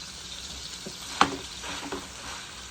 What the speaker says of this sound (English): as your ground beef is browning